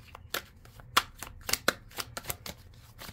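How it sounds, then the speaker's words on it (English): A humidity-sticky deck of cards is shuffled up close in a string of sharp riffling and slapping bursts with short pauses between them, and no voices. "The deck is really just sticky because when the humidity, it's hard to shuffle."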